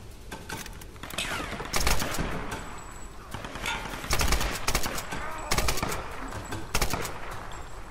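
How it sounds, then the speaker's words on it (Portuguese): Machine gun firing in the 2013 Tomb Raider video game, rapid bursts of automatic gunfire with loud blasts and repeated rattling volleys over several seconds, close and intense. "Controlar a metralhadora é muito difícil, cara."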